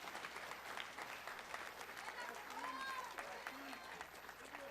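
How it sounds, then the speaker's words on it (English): A crowd claps steadily throughout at a Defiance College honors awards ceremony, a dense continuous patter of applause with faint voices mixed in. "give them a round of applause, Sue."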